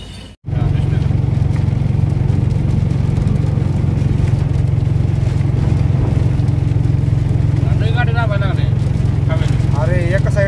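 Loud, constant engine rumble with wind roar from a moving vehicle on a road in Pune, and voices talking faintly near the end.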